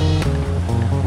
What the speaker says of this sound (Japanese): 海にはいい感じのうねりは入ってきますね